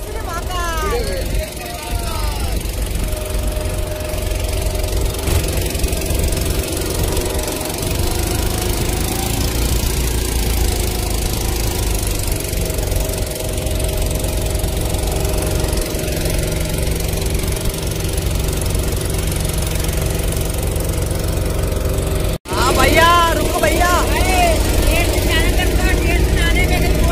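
A boat engine drones loud and steady throughout a boat ride on the Narmada river at Omkareshwar, running continuously close by while people talk over it.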